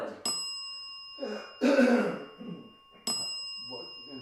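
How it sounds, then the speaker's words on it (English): A bell rings twice during a paranormal investigation, each a sharp ding with a ringing tail, separated by a few seconds, while people cough, clear their throats and murmur in between. "Are we taking turns with the bell?"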